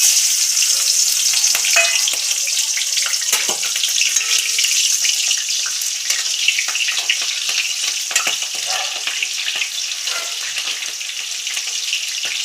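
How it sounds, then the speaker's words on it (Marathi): Thick green chillies frying in hot oil give a continuous close, crackling sizzle with small pops, steady throughout and with no talking over it. "दोन तीन जाड मिरच्या मी तळते आहे हे बघा तेलात टाकते आहे"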